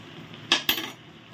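A spoon strikes a pan of carrot halwa just after ghee is added, giving two quick, light metallic clinks in a quiet kitchen.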